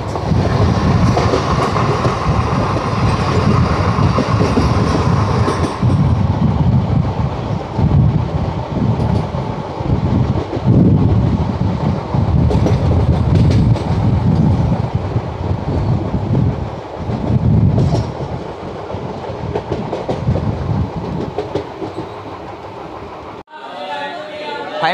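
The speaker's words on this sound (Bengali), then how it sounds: "আমাদের ট্রেন এখন ছুটে চলেছে এই সবুজ প্রকৃতির মাঝে দিয়ে" The 11098 Poorna Express rolls through green hill country with a loud, continuous rumble of wheels on rails and rhythmic clickety-clack beats, heavy wind buffeting throughout, and an abrupt quieter change near the end.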